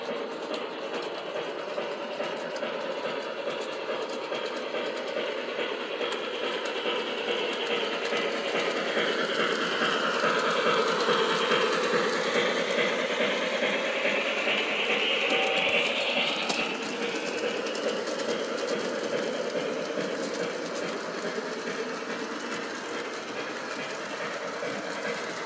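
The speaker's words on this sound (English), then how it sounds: "And here comes the train." A model train led by a Cab Forward locomotive rumbles and clicks steadily along the track through a double crossover, the clatter swelling as it passes close, then easing off; no voices.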